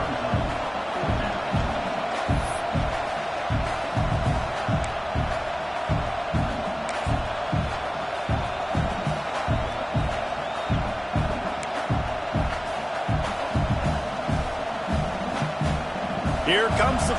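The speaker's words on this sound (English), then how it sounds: "This crowd trying to do its part to get inside the kicker's head." A football stadium crowd roars steadily before a field goal attempt, dense and loud throughout with a rhythmic thumping pulse, while a commentator talks over it.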